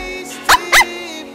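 A voice mimics a small dog, giving two short, sharp yapping barks in quick succession, close and loud against a quiet background.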